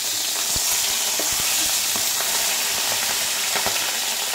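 Steady crackling sizzle of fish frying in hot oil, continuous and close, with a few sharp pops and spatters scattered throughout.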